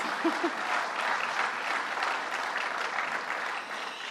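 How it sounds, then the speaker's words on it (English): Audience applause filling a hall, steady clapping from many people at moderate volume for about four seconds, with a brief cheer near the start and no one speaking. "that's an applause, yes"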